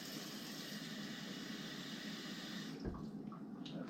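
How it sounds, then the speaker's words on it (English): Water running steadily into a rice cooker pot of rice, a continuous close hiss of flow that cuts off abruptly near the end, followed by faint drips and clinks, no talk. "now rice pots have lines in them where you fill the water up"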